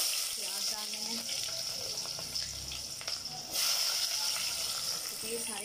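Onions sizzling in hot oil as they fry for a keema karela dish, a constant bright hiss up close, with a speaker talking over it.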